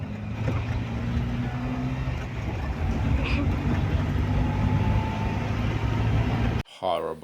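A car crossing a rough bridge: steady low road and engine rumble close inside the cabin, continuous and fairly loud, cutting off abruptly near the end.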